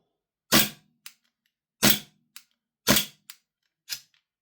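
A Cybergun Canik SFX Rival gas blowback airsoft pistol fires four sharp, loud cracks spaced about a second apart, each followed by a quick fainter clack from the slide cycling, with silence between shots.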